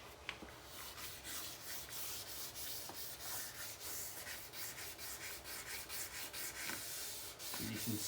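Steady back-and-forth sanding of a Subaru Impreza Spec C headlight lens, the hand strokes repeating in an even rhythm, close and continuous with no talk.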